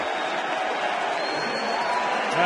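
Baseball crowd at a stadium applauding and cheering for a curtain call, a dense steady wash of clapping and voices at a distance, with no break over the short stretch.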